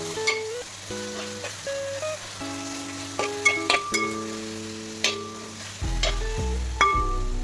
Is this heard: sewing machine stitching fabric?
no